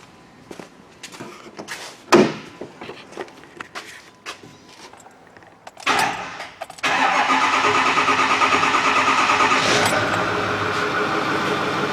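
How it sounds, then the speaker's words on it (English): Ford 6.4 Powerstroke diesel engine with a low-power fault. Several seconds of clunks and clicks lead to a cranking burst, then it catches and settles into a loud, steady idle that runs to the end. "start this thing up. Let's see it run."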